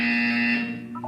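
An electronic buzzer in the video game Portal 2 sounds a steady, harsh tonal drone for most of a second, then cuts off into brief wavering tones, loud and close.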